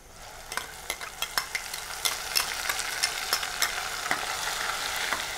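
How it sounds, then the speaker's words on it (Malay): Blended spice paste fries with crisp golden onions in a pan for nasi kandar, a steady close sizzle broken by repeated sharp clicks and scrapes of a spoon stirring, with no talk. "So kita masukkan bahan yang kita kisar tadi."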